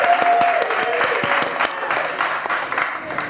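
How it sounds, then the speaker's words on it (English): Applause from a small audience after a podcast introduction, a brisk steady patter of clapping hands sustained for a few seconds, fairly close and fading slightly toward the end. "let's give him a round of applause"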